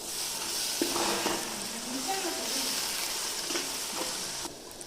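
Green chicken sukka masala fries and sizzles loudly in a pan while it is stirred, with scraping strokes over a constant frying hiss. A brief clatter comes near the end, after which the sizzle fades slightly.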